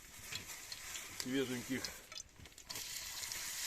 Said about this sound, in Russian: Вот мы раскалили сковородочку.